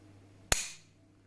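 A single sharp metallic click from dry firing a Grendel rifle fitted with a homemade external trigger, one loud close snap with a short decaying ring, alone in a quiet room.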